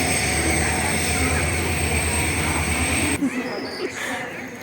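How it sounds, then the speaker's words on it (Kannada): A loud, continuous rumble of an arriving train close by, dropping off sharply near the end, with some voices faintly underneath. "ನೋಡ್ರಿ ಈಗ ಟ್ರೈನ್ ಬರತೈತಿ"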